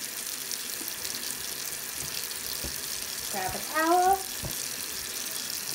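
Water runs steadily from a bathroom sink faucet after hand washing, a low continuous trickle with a few soft clinks and taps, while a voice briefly speaks over it.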